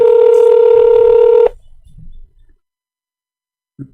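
Phone dialing tones ring out loud and steady for about a second and a half when a call is placed again, then cut off, followed by faint rustling and a short soft knock.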